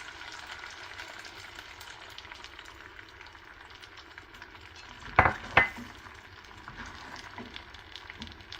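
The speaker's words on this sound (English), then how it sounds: "We have to roast the rava." Dry rava (semolina) roasting in a pan over medium heat while being stirred gives a soft, steady scraping hiss, broken by two quick spoon-against-pan clinks close together near the end.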